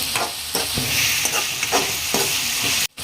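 A capsicum rice mixture sizzles in a pan as it is stirred, with a constant close frying hiss and rhythmic scraping strokes about every half second, ending abruptly.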